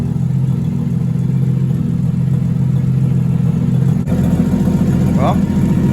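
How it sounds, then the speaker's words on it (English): A Toyota 2JZ engine swapped into a Mazda Miata idles very low and loud, with a steady deep rumble throughout and a brief higher squeal near the end. "The idle is just so low."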